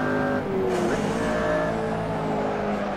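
McLaren Senna supercar in the Assetto Corsa racing game at Spa, its engine droning steadily with tonal harmonics rising under a brief burst of extra throttle, loud and close throughout.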